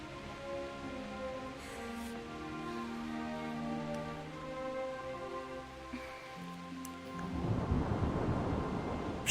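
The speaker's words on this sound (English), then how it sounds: "Not afraid of thunderstorms, are you?" Thunderstorm with rain in the video game Kingdom Come Deliverance: a steady wash of rain and low rumbling sits under a sustained musical drone, then the downpour swells louder near the end, with no talking.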